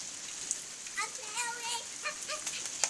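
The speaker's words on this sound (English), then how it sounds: "Look, it raining." Rain falls outside at night as a steady hiss with scattered drops on surfaces, joined by children's voices and chatter close by.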